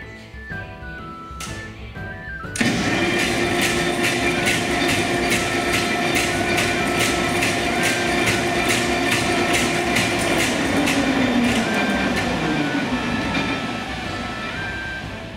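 Historic textile mill machinery at the Verdant Works starts up loudly after a few quiet seconds, then runs in a fast, regular mechanical clatter with a steady whine that slowly falls in pitch near the end, close and continuous.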